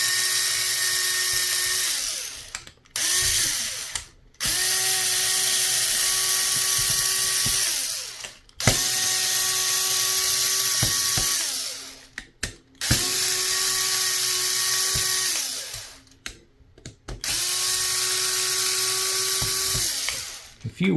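A small electric screwdriver takes the screws out of a Hogue grip on an airsoft pistol, whirring in steady, whiny bursts several seconds long, each broken by short pauses and clicks as it stops and starts.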